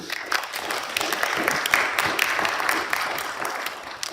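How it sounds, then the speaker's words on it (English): An academic lecture audience claps to welcome a speaker onto the stage, a lively, continuous round of applause lasting about four seconds, moderately loud and with no voices over it. "give a hand, raw applause for Dr. Higgins and welcome him on stage."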